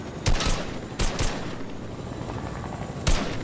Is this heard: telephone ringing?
no